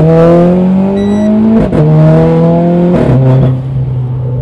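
A Renault Clio 4 RS Trophy spins its wheels under hard acceleration, the engine revving high and loud with two sharp gear shifts, tires skidding and slipping close by.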